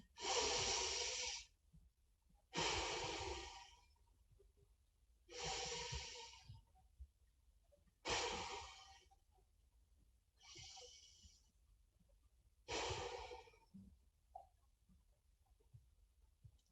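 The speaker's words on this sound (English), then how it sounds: "We finish this little meditation now by taking 3 deep, full breaths in upper chest, belly, and sides with a sound." Six deep, full breaths during a meditation, each a long, loud, voiced exhalation lasting about a second, separated by quiet inhalations, close and alone without speech.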